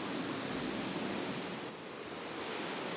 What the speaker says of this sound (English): everybody say goodbye to the Welsh waterfalls